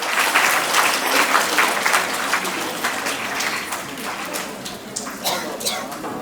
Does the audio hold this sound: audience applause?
yes